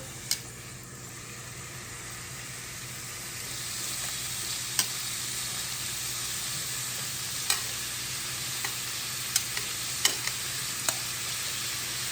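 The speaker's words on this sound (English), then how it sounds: "start adding our steak. You hear that sizzle?" Steak for Philly cheesesteak sizzles in an oiled pan, a constant crackling hiss with scattered sharp pops and spatters standing out now and then.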